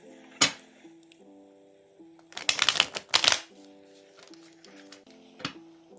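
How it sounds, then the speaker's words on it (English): Tarot cards shuffled by hand, a sharp riffle followed by a dense burst of rapid papery flutters and a final slap, close and quiet over soft background music. "One last shuffle."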